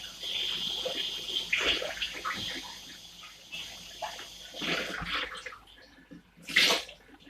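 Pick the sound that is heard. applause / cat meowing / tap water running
tap water running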